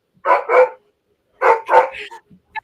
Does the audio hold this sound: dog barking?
yes